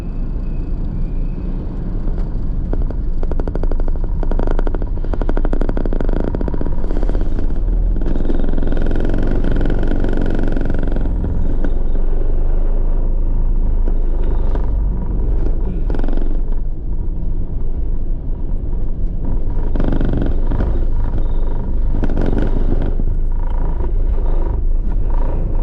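Cars and other vehicles drive off the Queen Coral car ferry, making a continuous low rumble of engines and tyres with passing surges inside the vessel's echoing deck.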